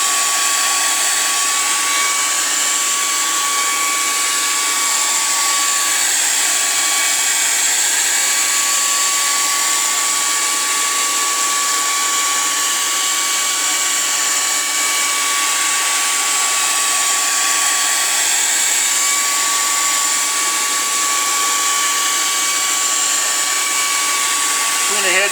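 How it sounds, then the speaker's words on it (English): A hair dryer blows steadily and loudly throughout, heating the adhesive strip of alloy wheel rim protectors, with a constant whine and a furnace running in the background. "Between the hairdryer and my furnace, I don't think you can hear me."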